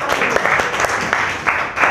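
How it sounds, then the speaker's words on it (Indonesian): Loud, close applause from a classroom of student groups during a teaching practice lesson, brisk uneven clapping over two seconds. "Oke, tepuk tangan untuk semua kelompok"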